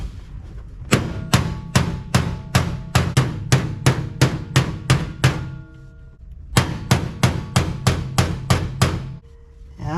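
A body hammer pounds sheet metal on a 1976 Chevy LUV truck, loud ringing strikes in two rapid runs of about a dozen blows each, separated by a brief pause, with no talking.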